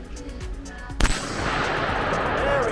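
A single sharp shot is fired at a target from about 15 yards, a close, abrupt crack followed by a steady wash of background noise.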